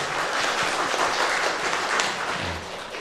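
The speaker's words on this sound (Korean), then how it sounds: "우리 박수로 한번 환영하겠습니다" Applause from a church congregation during a Sunday service, welcoming a deacon back from the Philippines who sits upstairs in the balcony; steady, dense clapping fills the hall throughout without any talk.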